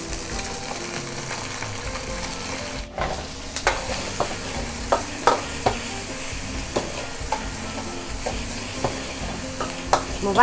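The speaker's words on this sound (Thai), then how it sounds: "ผัดอาหารไปผัดอาหารไป" Food is stir-fried in sizzling oil at a street food stall, with a steady hiss and repeated sharp clicks and scrapes of a spatula against the pan throughout.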